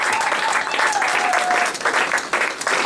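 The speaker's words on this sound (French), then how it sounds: "Acclamez très fort pour le roi des rois" A church congregation applauds and cheers for several seconds in a continuous burst, fairly loud and close, with no clear speech over it.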